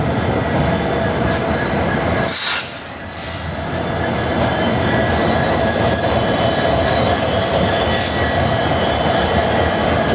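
The Ballarshah–CSMT Nandigram Express pulls into platform 1 at a station, a loud continuous rumble of wheels and carriages with high metallic squeals and a sharp hiss burst, close by and without talk.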